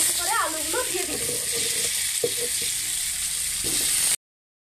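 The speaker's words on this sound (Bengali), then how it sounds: "তো অল্প অল্প করে আলুগুলো দিয়ে দিচ্ছি।" Potatoes dropped a few at a time into hot oil, seasoned with salt and a little turmeric, hiss in a steady, loud frying sizzle, with faint clatters and brief lower bumps as pieces go in; the sound cuts off abruptly near the end.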